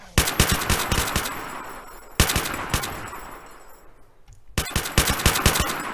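Rapid bursts of automatic gunfire from the Minecraft Walking Dead server game, loud and close, with a short pause before the firing resumes.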